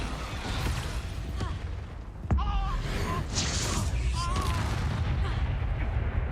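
The Expulso explosion spell from the video game Hogwarts Legacy, with a sudden heavy boom followed by rumbling, crackling blasts over a constant noisy game background, and faint voices mixed in.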